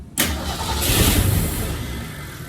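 A 1966 Ford Mustang engine cranks and catches with a loud, close roar that swells then settles toward a rough idle, running low on fuel.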